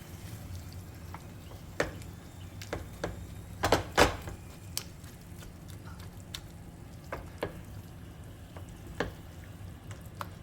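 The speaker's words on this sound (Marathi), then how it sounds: "त्याला छान आपल्याला पाच दहा मिनटं परतायचं आहे मिडियम गॅसवर" Brinjal bharit mixture stir-fried in a pan over a medium gas flame: a low, steady sizzle with scattered scraping and tapping of the spatula, including a brief busier burst of stirring, close up with no talking.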